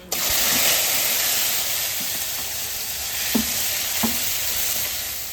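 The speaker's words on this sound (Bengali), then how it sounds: "জিরে আর আদা আর শুকনো লঙ্কা আর জিরে আর তেজপাতা ফোড়নে দিচ্ছি পেঁয়াজ রসুন দিয়ে দেয়" Cumin, ginger, dried chilli, bay leaf, onion and garlic fry in hot oil for a fish curry, giving a steady loud sizzle with a few soft clicks of a spoon against the pan, no voices.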